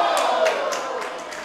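A wrestling crowd at a Pro Wrestling Magic event cheers and shouts in a loud, continuous roar, with sharp rhythmic accents that sound like claps or chants.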